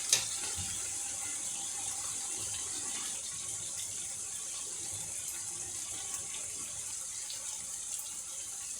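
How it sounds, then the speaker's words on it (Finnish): A one-litre electric kettle hisses and rushes steadily in the background of a kitchen, a continuous even whoosh with no talking. "Taustalla pöhisee nyt toi vedenkeitin."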